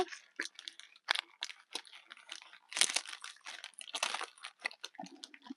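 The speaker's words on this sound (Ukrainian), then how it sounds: "Ну, давайте, давайте розпаковувати" A soft, gel-filled Secret Santa gift package is unwrapped by hand, giving a close run of crinkling, crunching and tearing bursts of plastic wrap in quick irregular clusters, with no voices.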